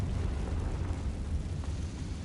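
Confringo fire spell blast in the Hogwarts Legacy video game, a sustained rumbling explosion with crackling debris that fills the whole moment at steady loudness, no talking over it.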